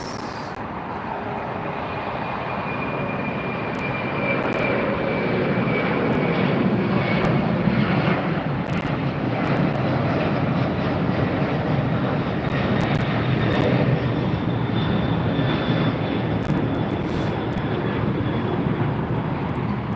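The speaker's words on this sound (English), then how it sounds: "that's our third, I think, FedEx departure for the night" A FedEx jet departing LAX at night roars steadily for the full length, its engine rumble swelling toward the middle and holding strong with a faint whine on top, no talk.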